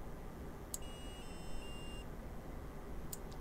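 An Arduino-driven buzzer plays a short tone sequence from a tone generator: a few thin, steady beeps over about a second, faint beneath a loud rumbling background, with two sharp clicks around them.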